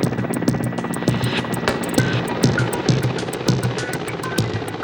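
Steady, loud Mi-8 helicopter rotor noise with rhythmic blade thumps and a high whine, continuous throughout.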